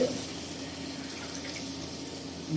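Water runs steadily from a tumbler into a pot of kodo millet (varagu) rice for a vegetable biryani, a continuous close pour without talk.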